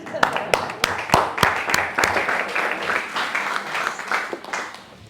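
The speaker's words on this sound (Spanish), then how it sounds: "Y ahora soy yo quien aplaude al barrio" A lecture audience gives applause after a talk on Franciscan convents and monasteries. Sharp, close individual claps punctuate a softer spread of clapping, with a voice speaking over part of it.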